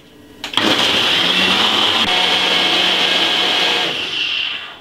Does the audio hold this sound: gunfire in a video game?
no